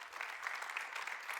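A church congregation applauds during a sermon, a quiet but steady patter of many hands heard from a distance with no voices over it.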